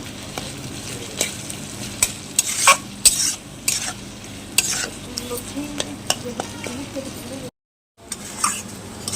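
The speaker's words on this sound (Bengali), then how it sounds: "এটা কষতে কষতে জলটাকে মেট দিতে হবে একটু শুকিয়ে শুকিয়ে নিতে হবে" Arum stolons and a hilsa head stir-fry in a pan, with a steady close sizzle and repeated scraping and clinking of a spatula against the metal, plus a brief dropout.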